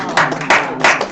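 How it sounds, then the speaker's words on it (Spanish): Three loud, close hand claps in an even rhythm, spaced roughly a third of a second apart, greeting visitors at a workshop during the dismantling of an art installation. "Las aplaudí."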